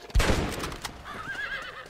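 A horse neighs in the Red Dead Redemption video game, a loud close whinny with a wavering, warbling tail, following a burst of hoof and movement noise at the start.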